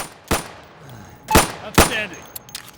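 Three sharp, loud gunshots from a secondary weapon crack out in the game Insurgency at wooden targets, the first alone and the next two closer together, followed by faint clattering and a short mechanical click.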